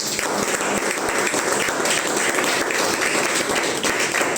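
A church congregation breaks into loud, sustained applause, a dense, steady wash of clapping from many hands that fills the whole stretch without letting up.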